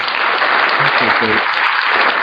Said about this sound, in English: I give you one more, and a round of applause.